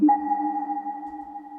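A sustained synth tone with reverb applied, held steadily with a soft, washed-out reverberant tail, smooth and moderately loud, no voices.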